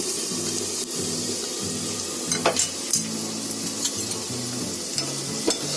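Potatoes sizzle and fry steadily in a pan while raw banana kofta curry is being cooked, with occasional stirring scrapes and a faint low tonal hum underneath, no talking.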